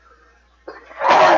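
A single sharp human sneeze bursts out at the very end, following a faint spoken word and a short rising inhale, close and loud during a tabletop role-playing game session.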